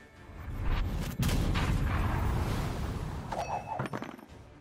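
An explosion effect in The Witcher card game Gwent rumbles out as a dense, loud boom that sustains for several seconds before fading into a few sharp clicks and a brief chime.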